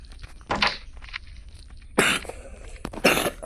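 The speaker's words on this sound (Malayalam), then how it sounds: "എനിക്ക് ഇച്ചിരി ചുമയൊക്കെയാണ്" A person coughs three times in separate harsh bursts, with quieter throat noises and shuffling between them, heard up close.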